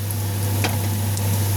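Taro fritters (kochu bora) fry in oil in a wok over low heat, giving a steady soft sizzle with a few faint crackles and a constant low hum underneath.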